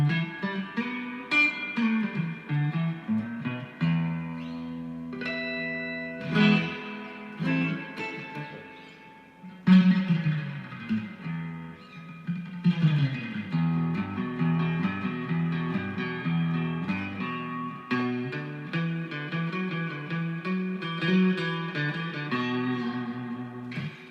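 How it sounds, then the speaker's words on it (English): An electric guitar plays twangy melodic lines through a Fender Blues Junior's spring reverb tank, drenched in splashy, wet reverb, notes ringing and bouncing with a surfy shimmer, no talking. "I've got a Blues Junior here, so a great reverb tank. That really splashy reverb."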